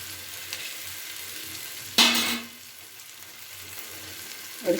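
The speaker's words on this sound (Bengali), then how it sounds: "ভালো করে আমি নাড়াচাড়া করে নিয়েছি" Mochar ghonto (banana flower curry) with ghee in a pan, a quiet background sizzle broken by one sharp scraping stroke midway and a short scrape at the end; no voices.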